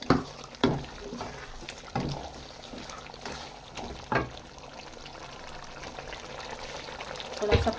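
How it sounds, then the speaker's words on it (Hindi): Water is poured into a chicken biryani masala with ground garam masala as it cooks, giving a faint pouring and sizzling wash broken by a few soft clinks and taps. "थोड़ा सा पानी डालेंगे।"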